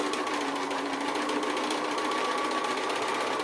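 A sewing machine runs steadily, stitching quilt fabric made from 1 1/2-inch strips along a drawn line, its continuous whirring hum holding an even level without pause and with no voices over it.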